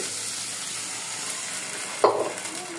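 Steady frying sizzle, then a sudden splash as water hits the hot pan, flaring into a louder hiss that settles back down.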